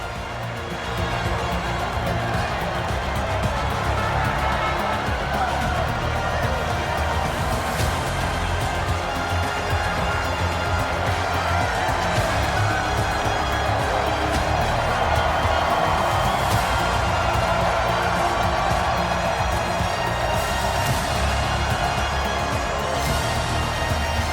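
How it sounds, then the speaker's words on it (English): A podium crowd in the MotoGP 21 racing game applauds and cheers after a race, a dense, even wash of clapping and crowd noise that holds at a steady level for over twenty seconds, with no clear voices on top. "these 3 guys deserve the applause of everyone under the podium"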